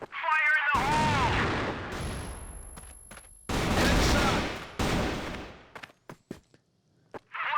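Loud bursts of gunfire from a competitive shooter esports match crack out in several heavy volleys separated by short gaps, ending in scattered sharp single shots.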